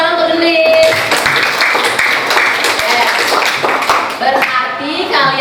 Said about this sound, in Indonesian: Selamat tepuk tangan untuk Denis.